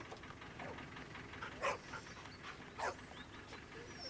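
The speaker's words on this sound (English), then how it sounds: "Oh, here come the corgis." Corgi dogs pant and whimper faintly nearby, with soft breathing throughout and two brief louder whines or yips in a quiet outdoor setting.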